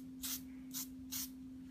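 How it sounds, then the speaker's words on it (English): Black dye sprayed onto the midsole of an adidas Ultra Boost sneaker in three short, separate aerosol bursts, each a soft close hiss, with quiet pauses between and no talking. "I'll just go ahead and show you just spraying it on the midsole."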